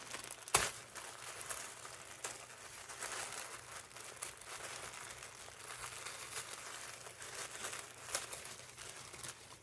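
Paper crinkles and rustles steadily for several seconds, close and fairly quiet, with a few sharper crackles while a package of lace is carefully unwrapped so the wrapping can be kept.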